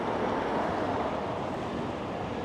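Strong wind buffets the microphone on a very windy day in Green Valley, Las Vegas, making a steady, loud, broadband roar that carries on throughout with no talk.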